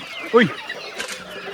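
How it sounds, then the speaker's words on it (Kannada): A native country chicken gives a single short, fairly loud cluck near a house, followed by faint background sounds and quiet voices. "ನಾಟಿ ಕೋಳಿ ಪಕ್ಕದ ಮನೇಲಿ ಸಾಕೋರೆ ಅಂತ"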